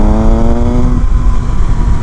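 2019 Triumph Speed Triple RS motorcycle rolling on the throttle in third gear, a loud, close engine whine climbing steadily in pitch, then fading into rushing wind roar.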